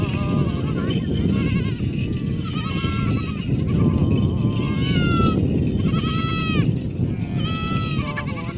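Goats bleat again and again, close and loud, over a thick outdoor rumble. Their wavering calls overlap through the whole stretch with no clear speech.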